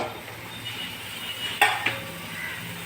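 Ridge gourd being stirred in a pan with turmeric, a soft continuous sizzle with two sharp metallic clinks of a spoon against the pan near the middle.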